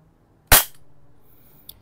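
An Umarex GHK G45 gas airsoft pistol fires one sharp, loud shot that decays quickly, followed by a faint small click a moment later in an otherwise quiet setting.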